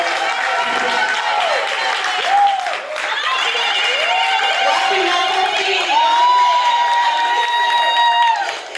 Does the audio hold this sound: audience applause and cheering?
yes